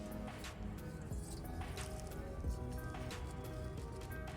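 Water left from cooking lentils is poured into the soil of a potted marigold plant, giving a steady wet trickle with dripping and soft squishing sounds close by.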